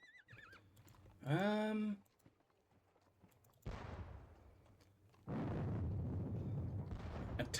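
A horse whinnies loudly in a war video game featuring an Italian horse artillery battery, followed by booming artillery and gunfire blasts with clip-clop hooves faintly under the noise.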